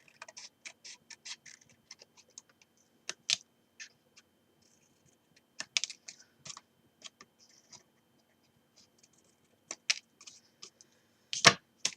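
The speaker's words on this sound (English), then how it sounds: "And cut away what you don't need." Card cut along score lines for a stocking filler sewing kit, heard as sparse sharp snips and clicks close by, scattered irregularly with quiet gaps between them and no talking.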